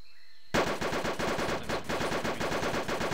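Rapid automatic gunfire from a military video game bursts in after a half-second of near silence, a dense, loud, continuous stutter of shots running to the end.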